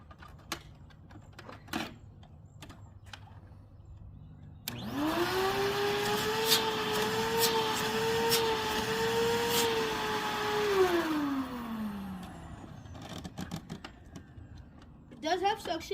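A secondhand thrift shop vacuum cleaner switches on with a loud, close whine, runs steadily for several seconds, then winds down, with faint handling clatter before and after.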